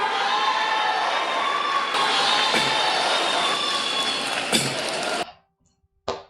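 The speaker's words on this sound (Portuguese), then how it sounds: "Galera do L aplaudindo." A large crowd of Lula supporters cheers and shouts in a loud, continuous roar for about five seconds, then cuts off abruptly, with a brief burst of noise returning at the end.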